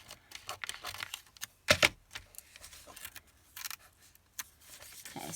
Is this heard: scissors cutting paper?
yes